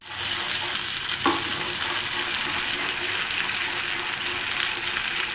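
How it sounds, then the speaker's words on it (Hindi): Desi ghee and ginger tempering sizzles steadily for Punjabi saag, a dense continuous frying hiss with a brief clink partway through and no talk. "अदरक और देसी घी का दोबारा तड़का लगाकर हमने साग को ऐसे पेश करना है"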